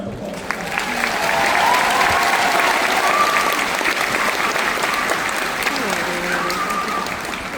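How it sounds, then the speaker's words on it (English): Sustained applause from a graduation ceremony crowd after scholarship awards, loud and steady throughout, with some voices mixed into the clapping. "So let's have a round of applause."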